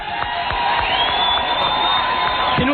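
A studio audience on a 1994 radio show cheers and applauds for Stan Dworkin, a loud, dense, steady crowd roar with whoops, sustained evenly throughout.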